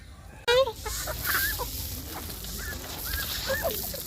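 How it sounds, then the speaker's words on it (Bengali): Chickens clucking and squawking close by as they are fed before evening, with short, overlapping calls in quick succession over a quiet outdoor background. "এখন বাকি আছে মুরগিগুলো সন্ধ্যার আগে খেতে দিই"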